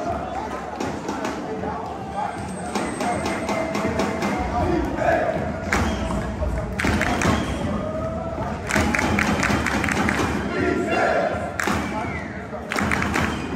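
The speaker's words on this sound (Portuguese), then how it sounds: "E a torcida não para de apoiar, até o final, velho" A large crowd at a Counter-Strike major cheers and chants for its team, with loud, dense roaring and rhythmic thumps of stomping or clapping, while someone talks excitedly over the noise.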